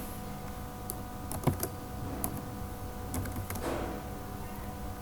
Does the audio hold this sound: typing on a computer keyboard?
yes